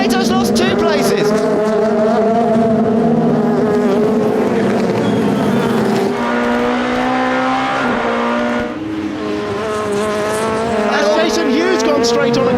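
BTCC touring cars race on track in the 2005 season, engines screaming loudly and continuously with shifting pitch as cars brake and pass, under an excited commentator's voice.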